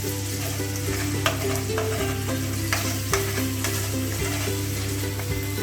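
Ginger and garlic paste fry in a pan with onion, making a loud continuous sizzle broken by repeated scraping stirs and occasional sharp clicks of a utensil against the pan.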